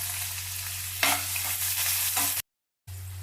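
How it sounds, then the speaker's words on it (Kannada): Chopped onions sizzle in hot oil in a pan while being stirred for a bottle gourd fry, a steady close frying hiss with scraping stirs, then a short silent cut. "ಈಗ ಈರುಳ್ಳಿ ಸ್ವಲ್ಪ ಕೆಂಪಗಾಗೋವರೆಗೂ ಹುರ್ಕೊಳ್ಳೋಣ."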